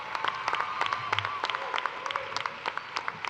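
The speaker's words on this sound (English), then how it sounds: "Let's give them a round of applause" Audience applause at a spring multicultural graduation ceremony, a crowd clapping steadily with scattered louder claps and faint cheering, in a large hall.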